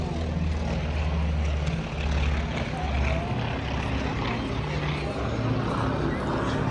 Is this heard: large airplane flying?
yes